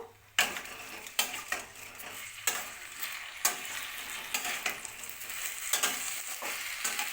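Rice with soybean and potato is stirred in a pan, each spoon stroke a sharp scrape against the metal, repeated in an uneven rhythm over a soft sizzle.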